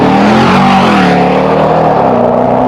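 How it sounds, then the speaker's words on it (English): A German twin-turbo V8 engine roars loudly up close, revving with a deep, grumbling pitch that climbs and then settles, alone without any talk. "That low, grumbly German V8 sound, I love it."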